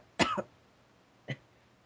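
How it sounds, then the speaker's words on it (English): A man coughs from something stuck in his throat: one strong, harsh double cough followed about a second later by a shorter, quieter cough, close to the microphone over a faint room hum. "I got something stuck in my throat."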